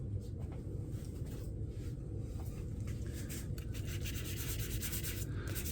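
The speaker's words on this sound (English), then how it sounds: "Do a little bit of sanding." Steady, continuous rasping of 120-grit sandpaper rubbed back and forth over a surface, close up and even in rhythm, with no talking.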